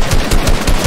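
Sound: gunshots in a shooter video game

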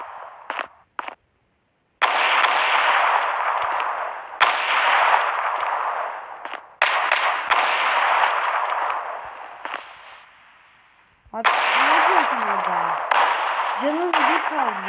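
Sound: sniper rifle gunfire in the video game Zula

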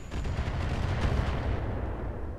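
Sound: mortar turret firing in video game Roguetech (BattleTech)

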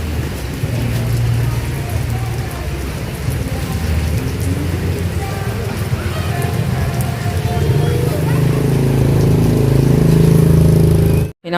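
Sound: heavy rain falling

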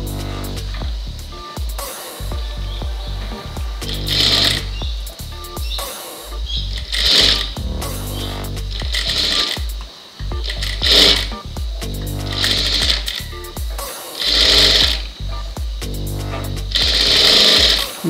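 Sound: sewing machine stitching a blouse sleeve

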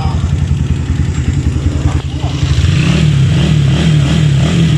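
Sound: motorcycle engine revving

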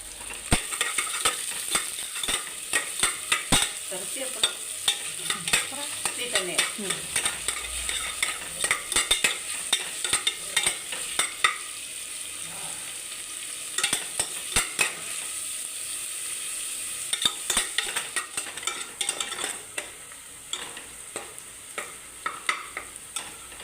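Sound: onions sautéing in a pan for chicken biryani

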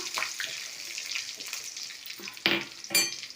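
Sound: garlic sautéing in oil, being stirred

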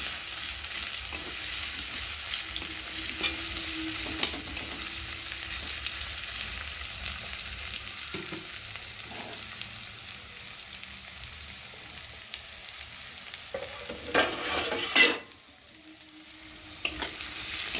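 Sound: frying onion and garlic in oil

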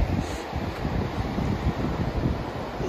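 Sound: ocean waves at the beach

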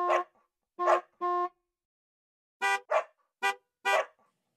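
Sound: car horns honking, dog barking

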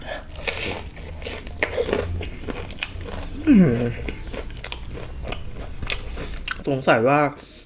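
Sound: crunchy bites of crispy fried chicken

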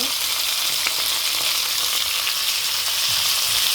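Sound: fennel seeds and shallots frying in oil

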